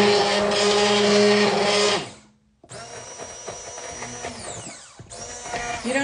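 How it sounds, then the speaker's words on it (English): Immersion blender blending potato leek soup, a loud whirring motor run that stops briefly, then starts again in a rougher grinding burst, followed by another short run. "So I'm blending it without the cream. This is way easier than using a freestanding blender."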